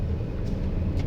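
A car being driven in third gear during a driving lesson, with a steady low engine and road rumble close inside the cabin.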